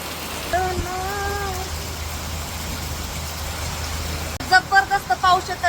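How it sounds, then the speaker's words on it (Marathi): Heavy rain pours outside, with water running across the ground like a stream; a steady, loud hiss fills the scene throughout, broken by a brief tonal sound early on and short voiced bursts near the end. "खूप सारा पाऊस येतोय"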